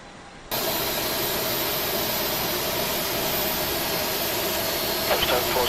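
Aircraft engine 2 in Microsoft Flight Simulator X spins up, a broad steady roar that jumps in abruptly and holds constant and loud, with a few faint clicks near the end.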